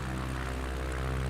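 Steady propeller-plane engine drone from the flight game Microsoft Flight Simulator 2024, a continuous low hum with a droning harmonic buzz, even and unbroken, with no voices.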